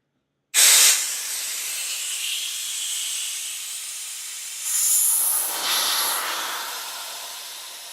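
A pressure pot holding resin-cast knife scales is opened, releasing a sudden loud hiss of escaping air that holds steady, then surges again in a second stronger burst before slowly easing off.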